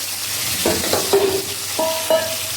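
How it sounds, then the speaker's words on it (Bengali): Hilsa fish frying in oil, a steady close sizzle under several metallic clinks and scrapes of a spatula against the pan, with no talking. "আমি মাছগুলো তেলে ছেড়ে দিয়েছিলাম আর যেহেতু ইলিশ মাছ তো বেশি কড়া করে ভাজা যাবে না"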